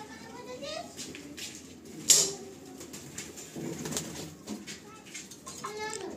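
Pigeons coo softly in a loft, with faint, intermittent calls under steady nearby talk and a brief sharp flutter or snap partway through.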